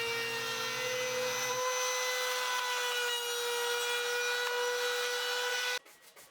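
A router cuts into a wooden sign with a steady, high-pitched whine and grinding hiss that runs evenly for several seconds before the tool winds down.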